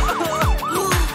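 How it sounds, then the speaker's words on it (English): An ambulance siren sounds inside a children's song, its rising and falling wail repeating about three times across a short, loud stretch over the music. "What do we need? The ambulance."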